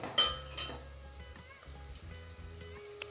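Oil frying in a pan for a spinach and potato curry, a soft sizzle with a few light stirring scrapes and clinks, steady and close with no talking.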